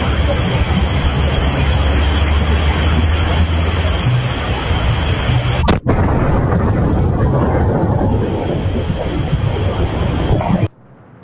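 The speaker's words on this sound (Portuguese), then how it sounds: "essas imagens também captaram o som dessa explosão" A gas explosion at a condominium, picked up by a security camera, comes through as a loud, sustained roar of broadband rumble lasting about ten seconds, with a sharp crack midway before cutting off abruptly.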